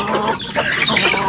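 Chickens cluck loudly and close by in a short, continuous burst of clucking.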